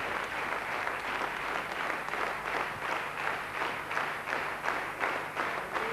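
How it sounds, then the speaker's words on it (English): A ballroom audience at a 1993 professional Latin dance competition applauds the dancers, a dense, steady wash of many hands clapping throughout, full and sustained. "Now, everybody applauding all the dancers"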